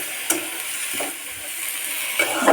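Prawn bhuna stir-frying in a pan, a steady broadband sizzle with a few soft scraping stirs, close and moderately loud, with no talking.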